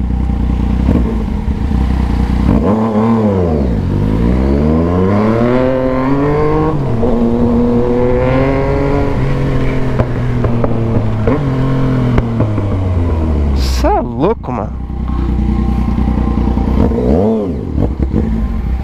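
A Yamaha MT-09 motorcycle engine revs hard while riding, rising and falling in repeated sweeping pulls with crackles, loud and close, alongside wind rush and a sharp pop late on.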